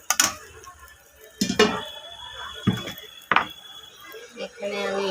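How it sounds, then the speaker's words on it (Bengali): Spice paste is stir-fried in a pan with water added, making scattered scraping and clinking knocks of a utensil against the pan, close and moderately loud, with a soft sizzle building toward the end. "মশলাটাকে ভালো করে কষিয়ে নেব।"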